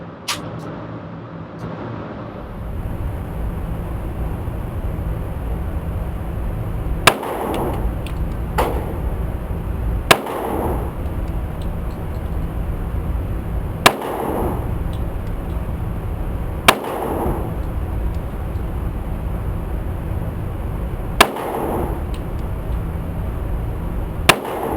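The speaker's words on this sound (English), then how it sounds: "we're going to see how the Wilson Professional works at 23 yards" Wilson Professional .45 pistol fired with Remington 230 grain ammunition at 23 yards on an indoor range: sharp shots spaced a few seconds apart over a steady background hum, about six in total.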